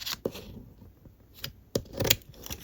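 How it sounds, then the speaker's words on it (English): Scissors snip through a paper color strip in a few sharp, quiet cuts with rustling paper between them, close up in a quiet room. "I will take some scissors and I'll just cut out"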